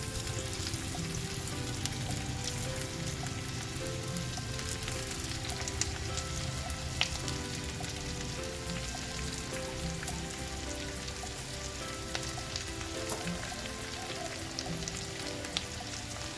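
Chopped spinach sizzles in a hot pan for a traditional Maharashtrian buttermilk spinach dish, a soft, continuous crackle like light rain, with occasional faint clicks and a low background hum.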